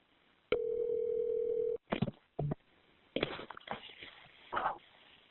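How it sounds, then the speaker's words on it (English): A steady telephone tone hums for about a second after a call is hung up, then cuts off into scattered clicks and handling noises, faint and close. "Hangs up the phone."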